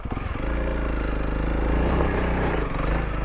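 A Honda CRF300L dual sport motorcycle runs in third gear on a rocky forest trail, with a steady, loud engine drone and small rises in revs. Light clatter from the bike and the ground sits under the engine note.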